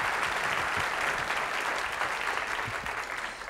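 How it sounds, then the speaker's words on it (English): An audience applauds two volunteers at a live magic show, steady dense clapping that holds evenly and fades slightly at the end. "Let's give a big applause for Kyle and Andrew."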